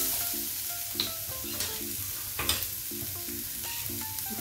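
Onion with garlic and ginger browning in a pan for a restaurant-style paneer mutter curry, a steady frying sizzle with faint repeating tones in the background and a few sharp clinks of stirring, no voices.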